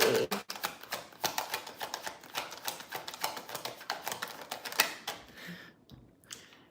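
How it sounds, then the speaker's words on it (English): Tarot cards are shuffled in quick, crisp riffles and taps, a dense rapid clatter close to the listener that stops near the end. "Y'all seeing me shuffle these cards."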